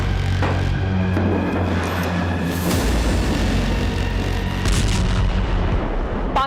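Gunfire along the India-Pakistan border, a dense, continuous barrage of loud booms and cracks with heavy rumbling low end, sustained throughout with no talking.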